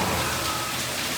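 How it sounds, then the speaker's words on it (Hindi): Heavy rain pours down steadily near rooftop stairs at a farmhouse, a dense continuous wash of loud hiss with no pauses and no voices. "सीढ़ियों से नीचे आते आते बारिश का बहाव कैसे है"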